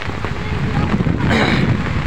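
Heavy rain pours down in a flooded village, a loud, dense, unbroken roar of hiss close to the microphone, with voices talking faintly beneath it.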